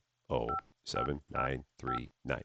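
Five separate touch-tone beeps from a phone being dialed in Office Simulator, evenly spaced, clean and close, each a short two-tone chirp with silence between.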